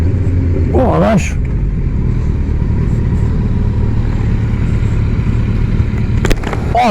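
A Harley-Davidson motorcycle engine drones in a loud, steady low rumble close by, without clear rev swells. People exclaim in French over it at the start and near the end.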